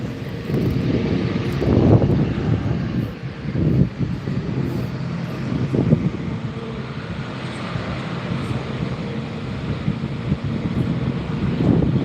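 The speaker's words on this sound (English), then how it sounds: "next up we have Vueling A320neo just taken off now" A Vueling Airbus A320neo airliner taking off from Gran Canaria Airport, heard as a broad, steady jet roar at a distance, swelling slightly and mixed with wind buffeting on the microphone.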